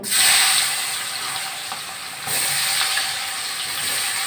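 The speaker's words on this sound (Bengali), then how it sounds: "পেঁয়াজগুলো আগে ভেজে তুলে নেব" Onions fry in hot oil in a pan for a pangas fish curry, a loud, steady, close sizzling hiss with no talking.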